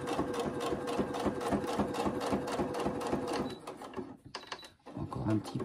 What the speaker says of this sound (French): Je continue ma couture.